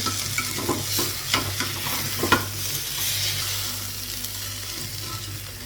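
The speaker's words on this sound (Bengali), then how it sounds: "চালটা একটু ভেজে নিব, তারপর জল লাগাবো।" Rice frying in a pan with cashews, onion and garlic for pulao, stirred steadily: a loud, continuous sizzle with repeated scraping and knocking spatula strokes early on, settling into an even hiss, no speech.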